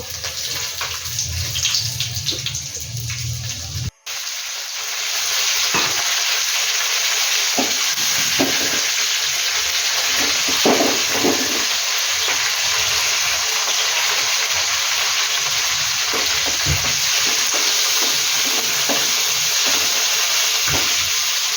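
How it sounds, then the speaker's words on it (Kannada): Mustard seeds and urad dal crackle in hot oil for tempering, a loud continuous sizzle with scattered pops that starts abruptly after a brief gap, with no voices. "ಒಂದು ಟೀ ಸ್ಪೂನಷ್ಟು ಸಾಸಿವೆ ಹಾಕ್ಕೊಂಡೆ ಒಂದು ಟೇಬಲ್ ಸ್ಪೂನ್ ಉದ್ದಿನ ಬೇಳೆ"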